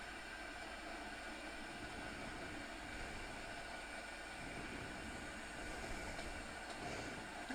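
Train in Train Sim World 5 running through a station at about 70 km/h on the Mittenwaldbahn route, a steady rumbling rail roar heard close and continuous with no talk.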